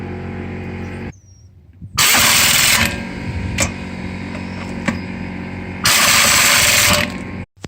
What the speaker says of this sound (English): I like using an impact gun.